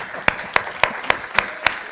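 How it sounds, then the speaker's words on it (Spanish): A few people clap in a steady, evenly spaced rhythm during a tourism and security panel in Ceuta, with several sharp claps over two seconds above a quiet room. "Un aplauso, por favor, chicos."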